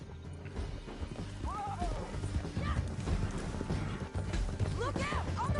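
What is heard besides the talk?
horse galloping in Red Dead Redemption 2 video game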